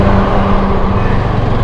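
A Yezdi motorcycle pulls away on a road trip, its engine a steady, loud, close drone with a low throbbing rumble that holds without a break.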